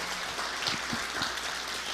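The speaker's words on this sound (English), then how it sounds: "would you all give these worthy scholars a round of applause for their accomplishments" A gathering of masonic lodge members applauds scholars, a faint, steady patter of many hands clapping in a room, continuous for a couple of seconds with a few louder claps standing out.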